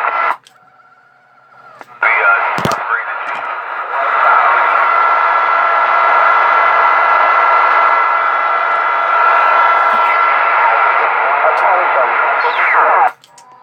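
Loud, steady broadband sound from a car stereo, playing continuously for about ten seconds after a brief quieter start, then cutting off abruptly.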